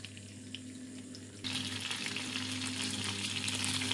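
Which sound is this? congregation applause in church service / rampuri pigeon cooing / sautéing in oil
sautéing in oil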